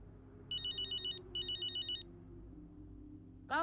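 Two bursts of an electronic phone ringtone in the F1 23 racing game's Braking Point 2 story mode, each a quick warbling pattern over a low steady background hum, followed by a sharp noise at the end.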